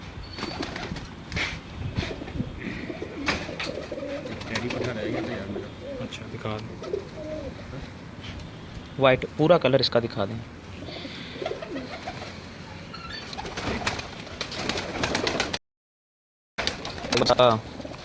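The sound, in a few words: pigeons cooing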